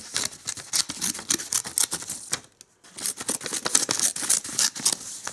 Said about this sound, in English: The scissors work really well.